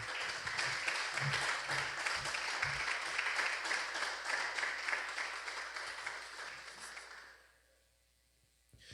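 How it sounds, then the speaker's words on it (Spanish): A church congregation claps as an offering to the Lord, steady crowd applause lasting about seven seconds before fading out into near silence. "dale una ofrenda de palmas al Señor"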